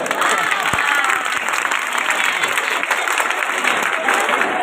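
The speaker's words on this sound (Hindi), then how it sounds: "तालियों तो बजायो।" A school audience breaks into steady, dense applause that holds at a loud, even level throughout, with a few sharp claps standing out near the start.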